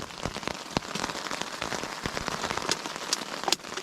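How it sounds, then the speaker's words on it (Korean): Heavy rain drums on a tent at a camp, a dense, close patter of drops with a few sharper splats, continuous and without speech. "빗소리 들으면서 푹 자야 되겠네요"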